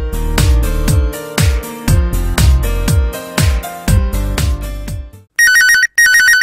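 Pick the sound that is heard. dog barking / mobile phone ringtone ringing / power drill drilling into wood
mobile phone ringtone ringing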